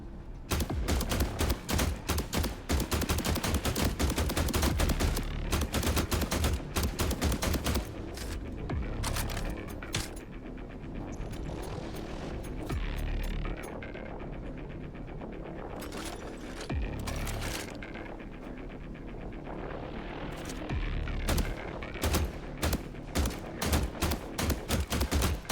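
Dense, sustained gunfire from The Last Caretaker video game crackles almost nonstop. Rapid automatic bursts are loud and close, thin out briefly in the middle, then pick up again.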